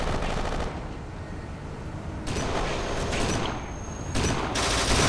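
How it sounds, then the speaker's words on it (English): Shotgun blasts in a Kane & Lynch 2 multiplayer deathmatch, sounding as loud, dense bursts of gunfire that rise and fall across the clip with no voices. "this shotgun's pretty overpowered"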